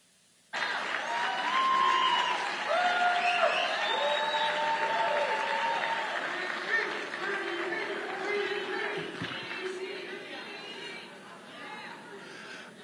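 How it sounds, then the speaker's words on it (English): Applause and cheering from a crowd at a political gala in Columbia, South Carolina, as a congressman takes the stage, a long sustained ovation beginning abruptly after silence, with crowd chatter and shouts mixed in before gradually easing. "please give a round of applause for the chairman of the Black Conservative Federation"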